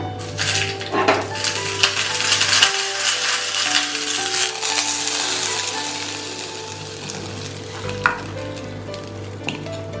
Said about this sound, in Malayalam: ഇനി നമുക്ക് ഈ കാളനിലേക്ക് ചുവന്നമുളകും കടുകും കറിവേപ്പിലയും കൂടെ വറുത്തിടാം